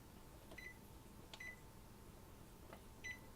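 A kitchen timer being set gives a few short electronic beeps, three evenly spaced chirps over a faint background hum in a quiet kitchen.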